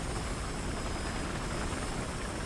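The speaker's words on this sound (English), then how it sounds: "I'm gonna drive the helicopter." A helicopter in the Battlefield Hardline video game produces a loud, constant rotor and engine drone that fills the whole stretch without a break.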